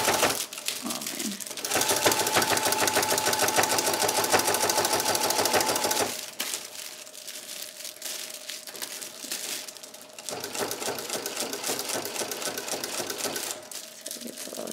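Domestic sewing machine running in sustained stitching bursts across fabric for a baby crinkle book, with a pause in the middle before stitching resumes, close and loud with no talk.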